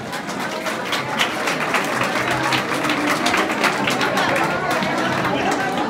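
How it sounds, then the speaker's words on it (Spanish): Applause and crowd chatter fill a municipal centre during a live radio event, steady clapping mixed with voices and murmurs throughout. "Un aplauso, por favor."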